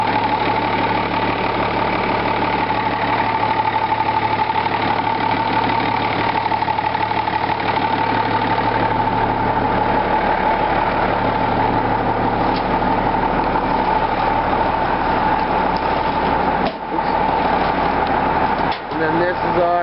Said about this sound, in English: It'll take a while for that engine block to warm up.